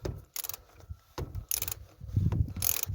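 A ratchet wrench works on a Ford Focus MK3 1.6 TDCi during an oil change, giving sharp clicking runs in several separate bursts between quieter pauses, close up, with faint handling noises.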